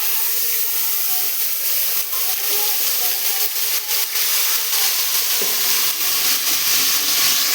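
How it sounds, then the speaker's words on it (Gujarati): Gravy being tempered in hot oil for a Gujarati brinjal and potato curry gives a loud, steady sizzling hiss that holds at close range without a break. "અને હવે ગ્રેવીનો વઘાર કરશું"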